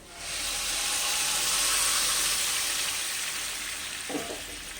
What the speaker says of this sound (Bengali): গরম জলটা এর মধ্যে দিয়ে দিচ্ছি